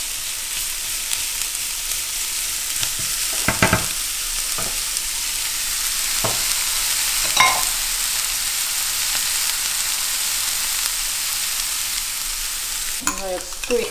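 Onions and carrots sizzle steadily in a hot pan, a constant bright hiss with a few scrapes and clacks of stirring, no voices.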